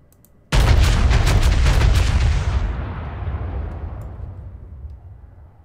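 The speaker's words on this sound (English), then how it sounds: "My 16-inch shells are out." Full salvo of the 16-inch main guns of the battleship North Carolina BB-55 in World of Warships: one sudden, massive boom followed by a long rumbling roll that slowly fades over several seconds.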